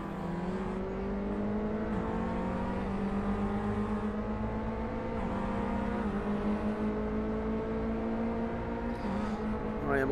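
Clio Cup race car engine in the Assetto Corsa racing game, a steady droning hum that rises and falls with revs and gear changes, close and continuous throughout with no talking.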